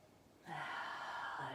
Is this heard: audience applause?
no